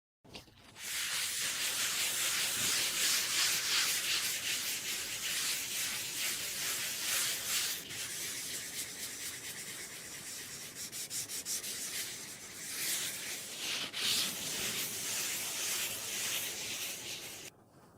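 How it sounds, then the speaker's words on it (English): An abrasive sponge scrubs steadily across old wooden furniture, a continuous close, breathy rubbing hiss with rhythmic strokes lasting the whole stretch, no voices. "It can easily be removed with a cloth. Or with the abrasive sponge."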